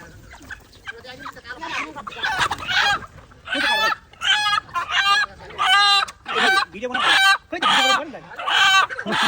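Local village chickens in Korea cluck and squawk repeatedly at close range while being caught, loud bursts coming in a quick, uneven series with brief gaps between them.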